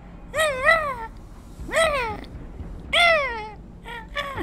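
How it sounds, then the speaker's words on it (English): A cat meows repeatedly during the Illusion Walker boss fight in a video game, with three clear drawn-out meows followed by a shorter one, loud and close against low background noise. "I heard this fucking meowing sound out of nowhere"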